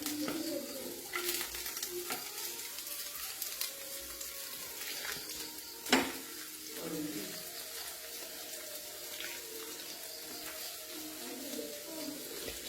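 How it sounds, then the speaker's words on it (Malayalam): Soya chunks frying in hot coconut oil give a steady, faint sizzle with scattered stirring scrapes. One sharper clatter sounds in the middle, and no one speaks. "വെളിച്ചെണ്ണ ചൂടായി നമുക്ക് ഇതിലേക്ക് സോയാബീൻ ഇട്ട് കൊടുക്കാം."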